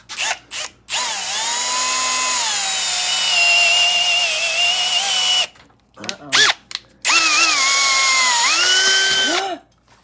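Power drill with a bit boring through metal while a Dodge van is repaired, loud sustained motor whine in long runs with pitch sagging under load, broken by short stop-start bursts between them.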